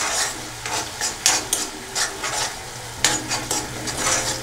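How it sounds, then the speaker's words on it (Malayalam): Crushed ginger and garlic fry with sardine masala, a steady hiss of sizzling oil under repeated rasping spatula scrapes against the pan, close and continuous without speech. "ഇനി അതിലേക്ക് നമുക്ക് നമ്മൾ ചതച്ച് വെച്ചിരിക്കുന്ന ഇഞ്ചി, വെളുത്തുള്ളി എന്നിവ ചേർക്കാം"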